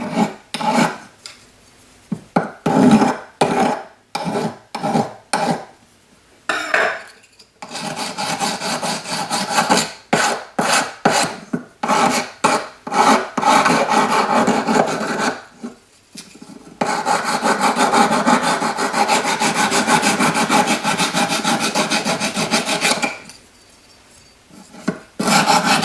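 Repeated rasping strokes of a sanding stick on a small metal cuff bracelet, in bursts with brief pauses, close up and fairly loud.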